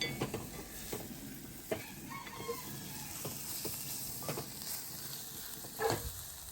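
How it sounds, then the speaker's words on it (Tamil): Green chillies and onion sauté in a pan, a soft, steady sizzle with scattered light clicks and scrapes of a spoon against the pan. "நல்லா வதக்கணும். இன்னும் பச்சை மிளகாய் வெங்காயம் பொன்னிறமாக வரையில அது மட்டும் வதக்கணும்"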